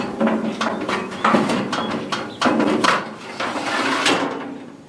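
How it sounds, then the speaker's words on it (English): The ash drawer on a Dyna-Glo charcoal BBQ grill is pulled out and handled, making a series of close metallic scrapes, knocks and rattles in uneven bursts, and no one speaks. "It has a pull-out dust ash receptacle, makes it very easy."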